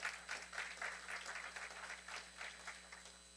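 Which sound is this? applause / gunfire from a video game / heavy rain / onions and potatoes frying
applause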